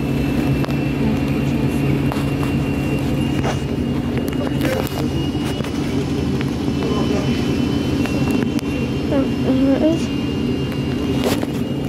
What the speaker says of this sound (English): Why are there noises that sounds like a plane taking off?